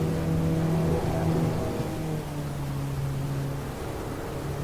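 An Abarth 500 in the Assetto Corsa racing game drives on a track, its engine giving a steady droning hum with a slight drop in pitch midway, constant and moderately loud.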